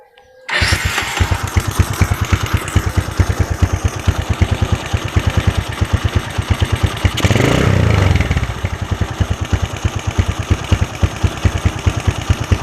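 Honda CB 100 motorcycle engine starts and idles with a rapid, steady, close-up thumping putter, briefly revving louder midway before settling back to idle.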